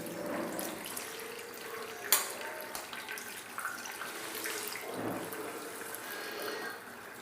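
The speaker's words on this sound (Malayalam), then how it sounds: "നല്ല തണുത്ത വെള്ളം ഒഴിച്ചു കൊടുക്കാം." Cold water pouring over strained boiled macaroni, a steady splashing, running-tap wash with occasional knocks of a pot or strainer, moderately close, no voices.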